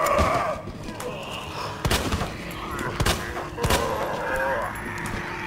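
Gunshots in the video game Resident Evil 2 Remake: several sharp, loud single reports spaced about a second apart, over a busy game backdrop with a voice talking.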